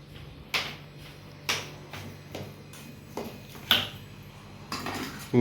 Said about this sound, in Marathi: बघू शकता किती भारी बॅटर मिक्स होतोय